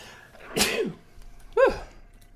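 A sharp, close human sneeze, followed a second later by a shorter, higher sneeze-like burst in an otherwise quiet room.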